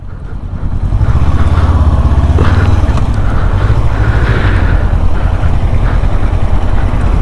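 A Honda CB500F motorcycle engine roars steadily at close range while being ridden, a continuous throaty drone with rumbling low end and no pauses.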